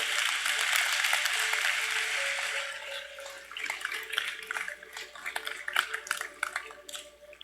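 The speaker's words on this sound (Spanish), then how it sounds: "denle un aplauso al Señor" A church congregation applauds, a broad wash of clapping that tapers into scattered claps, with a voice speaking underneath.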